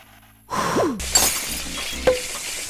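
Glass bottles breaking in a VR game: a sharp shatter followed by tinkling shards, then a second smaller smash a moment later, close and fairly loud with no voices.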